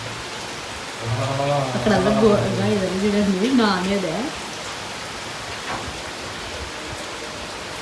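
Rain falls steadily in a village and comes into a house as a continuous hiss. Someone speaks over it for a few seconds, then the rain continues alone.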